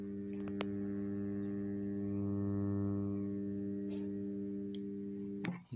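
Steady mains-type hum with strong harmonics from a faulty subwoofer amplifier built around a TDA7379 chip, a continuous buzzing drone at even loudness for the whole stretch, with a couple of faint ticks and no music coming through.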